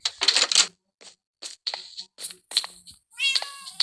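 Cat meows from a Minecraft game, several short mewing calls in bursts with a longer, tonal meow at the end, fairly close and clear with no talking.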